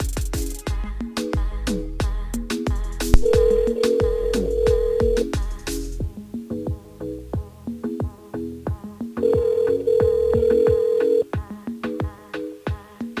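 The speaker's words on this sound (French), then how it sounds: "On appelle Stéphanie du côté de Saint-Pierre." A telephone call rings on air during a live evening radio show, a steady tonal ring repeating in two separate bursts over a busy backing of music.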